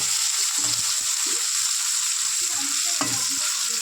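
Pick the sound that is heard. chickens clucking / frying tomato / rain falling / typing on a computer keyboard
frying tomato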